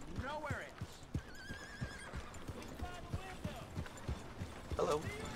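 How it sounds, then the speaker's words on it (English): Horse in the Red Dead Redemption 2 video game whinnying at close range, with quick rhythmic clip-clop of hooves on ground and a second neigh near the end, over game ambience and talk. "What is that horse doing?"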